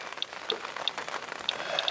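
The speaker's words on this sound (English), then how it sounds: "these are also heavy storms that are still ongoing here" Rain from an ongoing heavy storm patters steadily on a surface, a dense, even wash of drops with a few sharper ticks over a short stretch.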